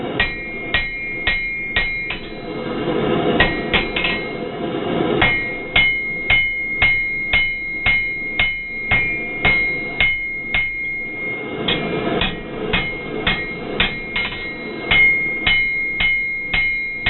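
A blacksmith hammers hot steel flat on an anvil while forging an ash shovel, giving steady, evenly spaced ringing blows with a bright metallic ping, close and loud, with no talk.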